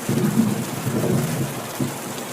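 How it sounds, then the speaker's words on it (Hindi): Heavy rain pours steadily in a dense hiss, with low rumbling swells of thunder beneath it. "बहुत तेज बारिश भी हो रही है।"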